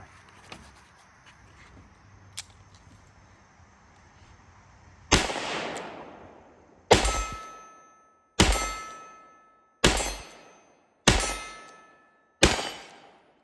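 Six loud, sharp shots from a nickel-finished Smith & Wesson Model 19 .357 Magnum revolver, fired close by in a steady string about a second and a half apart, each one ringing out and decaying before the next.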